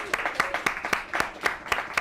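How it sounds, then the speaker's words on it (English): A small audience clapping in a steady rhythmic beat, roughly four claps per second, moderately close and mixed with faint murmuring voices. "Got a clap."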